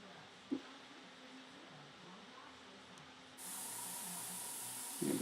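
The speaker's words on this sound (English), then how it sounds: "you can see now I changed my airbrush again. This is the SP35, and I have white in there now" SP35 airbrush spraying white paint, a steady close hiss that starts abruptly partway through after a faint quiet stretch with a small tap.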